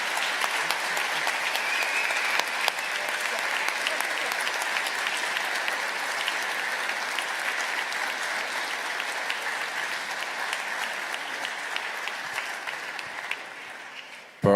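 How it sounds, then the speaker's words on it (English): Steady, dense clapping from a large conference audience at NG-DE Berlin 2025 applauding the organizing team, continuing evenly for about fourteen seconds before cutting off abruptly. "Please again, clap for the team"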